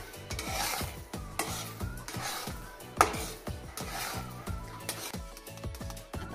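A spoon scrapes and stirs a thick custard halwa mixture in a pan, making rhythmic rasping strokes about twice a second, close and moderately loud, with an occasional sharper knock against the pan.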